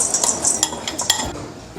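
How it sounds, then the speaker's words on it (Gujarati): Kolkata-style chaat ingredients are tossed together in a bowl, with quick scraping clinks of a spoon against the bowl, close and brisk. "તો હવે આપણે બધી સામગ્રીને સરસ રીતે મિક્સ કરી દઈશું."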